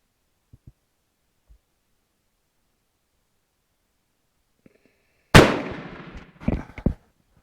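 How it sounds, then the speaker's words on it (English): A Dutch Beaumont model 1871/79 rifle fires a single loud, sharp shot after a quiet stretch, with a rolling decay and a couple of smaller thumps trailing right behind it. "I am going to shoot the bottom target."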